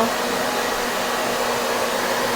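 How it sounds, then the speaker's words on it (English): A hair dryer blows close by in a constant, loud whir while drying a paper picture, a smooth, unbroken airflow with no voices. "if you're drying your picture, you don't want to get the hairdryer real close to the paper"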